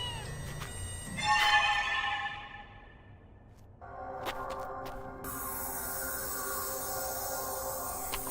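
A cat in a Japanese horror anime short gives one drawn-out, fairly quiet meow, followed by a steady tonal ringing in the scene with no talking.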